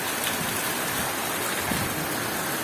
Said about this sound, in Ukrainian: Добрий дощик.